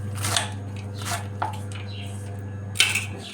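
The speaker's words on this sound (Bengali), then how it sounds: "এখন আমি কুচি কুচি করে নেব।" A knife cuts through freshly washed leafy greens on a board in a home kitchen, a few separate crisp strikes spaced out over a steady low electrical hum.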